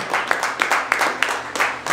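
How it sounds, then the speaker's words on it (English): Audience at a stand-up comedy show in Reno clapping for the comedians, a steady wash of applause with a few sharper claps rising out of it, with no voices over it. "Will you at least clap for them, please?"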